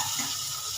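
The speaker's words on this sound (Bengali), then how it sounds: "এই পাশটাও আমি পেঁয়াজ লাল করতেছি।" Onions frying in a pan, a steady dense hiss of sizzling oil heard close and continuous for a brief moment, with no talking.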